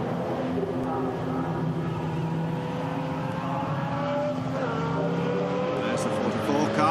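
Race cars, including a gull-wing Mercedes, lapping the Nürburgring during the 2013 24 Hours, engines droning and rising in pitch as they pass, with a commentator's voice over the steady roar.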